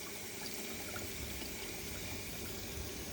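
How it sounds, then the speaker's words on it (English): Hot water runs steadily from a tap in one continuous, close, even rush with no voices. "We'll get some hot water going."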